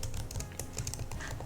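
A child types on a computer keyboard during a homeschool writing game, a soft, quiet patter of keystrokes in an irregular but continuous stream.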